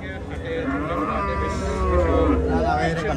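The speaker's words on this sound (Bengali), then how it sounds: "একটি ক্রস জাতের গরু দেখা যাচ্ছে।" Crossbred cattle at the Chandimura cattle market in Comilla low with a long, drawn-out moo building in strength, set against market hubbub and nearby chatter.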